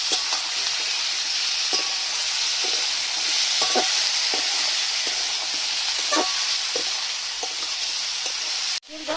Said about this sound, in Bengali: পরিমাণ মতো হলুদ গুঁড়ো দিয়ে দিলাম। নেড়ে দিচ্ছি।